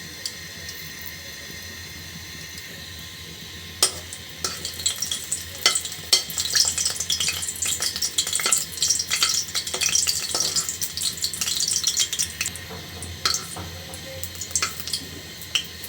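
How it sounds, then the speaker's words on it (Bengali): Dried chilies fry in oil in a wok, starting quietly, then breaking into a lively, irregular sizzle and crackle with sharp pops, close and steady. "দিয়ে দিলাম কড়াইয়ের ভিতরে তেল, দিয়ে দিচ্ছি কয়েকটা শুকনো মরিচ।"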